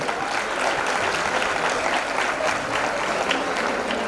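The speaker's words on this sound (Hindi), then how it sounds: "ताली बजाने कंजूसी क्यों कर रहे हैं भाई लोगों?" A crowd claps continuously at a Jain religious ceremony, a loud, dense wash of applause that holds steady throughout without speech.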